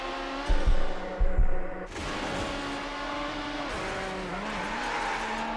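A McLaren F1 in the game Need for Speed: Hot Pursuit 2 scrapes against a guardrail in two loud, grinding bursts, then its engine keeps droning steadily at speed.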